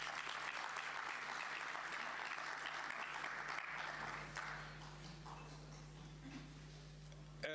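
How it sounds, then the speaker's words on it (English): Summit attendees give a round of applause, faint distant clapping that thins out over several seconds under a low steady hum. "May we please give her a big round of applause?"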